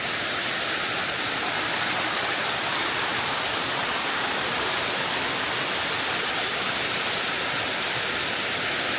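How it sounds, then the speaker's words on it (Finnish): A waterfall near a small Thai village roars in a loud, steady, unbroken rush of falling water for the whole stretch, with no voices. "Tää on kunnon vesiputous."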